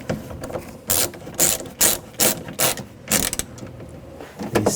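A ratchet tightens bolts on the rear window regulator of a 2004–2009 Audi A4 Quattro, giving rapid clicking pawl bursts in short repeated strokes with brief pauses between, close and clear, with no talk.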